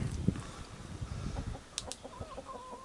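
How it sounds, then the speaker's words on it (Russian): Chickens clucking softly around a farmyard, several short scattered calls with low shuffling and movement noise, fairly near and not loud. "Вот и курочки"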